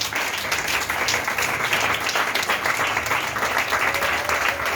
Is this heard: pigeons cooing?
no